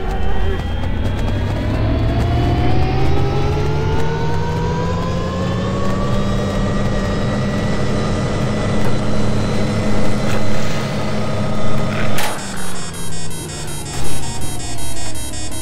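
A steady, loud helicopter rotor and engine drone in a video game with a rising whine fills the clip, then cuts abruptly near the end into a different buzzing texture.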